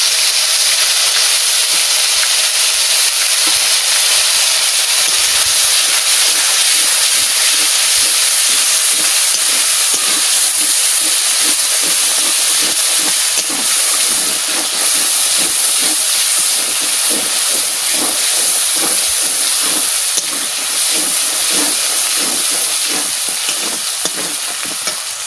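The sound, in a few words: ground spice paste of coriander, cumin, chilli, onion, garlic, ginger frying in oil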